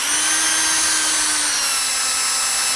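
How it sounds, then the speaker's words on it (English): A power drill runs steadily for just under three seconds, making a continuous high whine with no pauses, close up and with no talk. It is drilling a hole into a toe to treat a stiff big toe. "he's going to drill a hole just like that"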